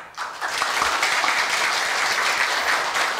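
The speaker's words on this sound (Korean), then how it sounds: "김재년 노동조합 지부장님께 감사의 박수를 부탁드립니다" An audience at a university staff retirement ceremony gives applause of thanks, a dense even round of clapping starting abruptly and continuing steadily at moderate loudness, with no speech.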